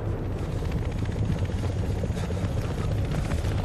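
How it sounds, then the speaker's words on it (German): A helicopter arrives in the Battlefield 3 co-op mission Operation Exodus, giving off a steady, close rotor thrum and engine drone that holds evenly for a few seconds with no break. "Okay, unser Heli ist angekommen."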